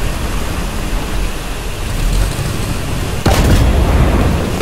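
A tank shell bouncing off the turret of an M4 Sherman in the War Thunder game, a sudden sharp metallic clang partway through, heard over a constant loud roar of engine and battle noise.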